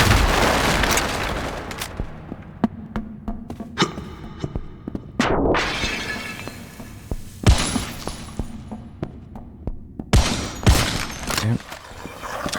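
Grenade launcher firing in the video game El Paso, Elsewhere, heard as a run of sharp loud blasts and shattering bursts at irregular intervals amid other gunfire and game noise, with a voice speaking over parts of it.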